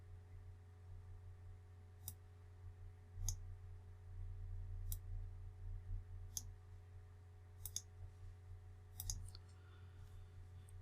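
A computer mouse clicking, several sharp isolated clicks spaced a second or two apart, some in quick pairs, over a quiet steady hum.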